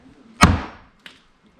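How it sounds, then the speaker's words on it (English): A hammer strikes a pry bar with a single sharp metallic ring that decays, followed a moment later by a lighter second tap, with near-silence around them, while installing an exterior door. "and then hammer it right here."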